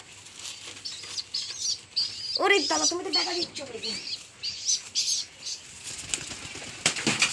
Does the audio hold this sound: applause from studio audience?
no